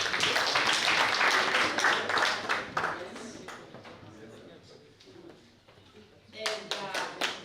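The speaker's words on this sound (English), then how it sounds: "Can we clap for it?" Audience clapping at an East Africa conference, a full burst that tapers into a few scattered claps, with a short second burst of claps near the end.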